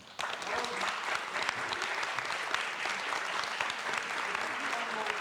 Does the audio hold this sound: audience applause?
yes